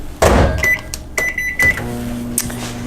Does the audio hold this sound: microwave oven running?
yes